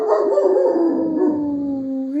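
A dog gives a long, sustained, wavering howl that rises and falls like a siren, loud and close, held alone for about two seconds.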